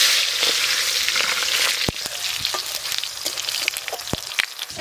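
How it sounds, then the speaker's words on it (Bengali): Panch phoron, dry chili and chopped tomato fry in hot oil, giving a loud, crackling spatter with sharp pops scattered throughout and a dense hiss that eases slightly midway. "ফোড়নের জন্য তেল দেব, পাঁচ ফোড়ন, শুকনো লঙ্কা, টমেটো কুচি দিয়ে দেব।"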